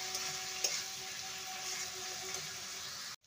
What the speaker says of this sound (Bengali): এবারে দিয়ে দেবো ডিমের ভুজিয়া, ভালো করে মিশিয়ে নেব।